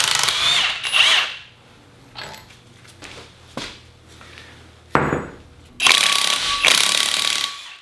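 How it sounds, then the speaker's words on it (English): A Portaband portable bandsaw cuts axle parts from a 1-ton Super Duty axle in a truck teardown, with loud bursts of grinding cutting noise between quieter pauses and clanks, close by, with no talking. "cut with the portaband."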